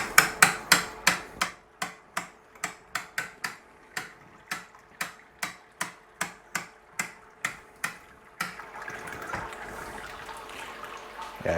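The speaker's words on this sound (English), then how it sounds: "you can hear it's dripping a bit, but this is a typical stuck mash" Wort dripping from a lifted malt pail during a stuck mash while brewing a pastry stout: a steady run of distinct, evenly spaced drips, close and clear, giving way to a softer continuous trickle near the end.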